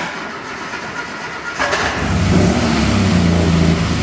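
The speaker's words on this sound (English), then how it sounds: "that's the first time it started up in a few days" An old car engine cranks on its starter with choke pulled and catches after a moment, then settles into a loud, steady running rumble close by.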